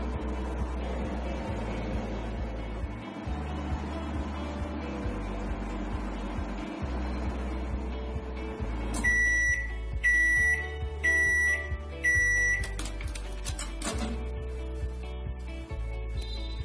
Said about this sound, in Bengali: আবার আমরা 2 মিনিটের জন্য রান্না হতে দিয়ে দিয়েছি মাইক্রোওয়েভের মধ্যে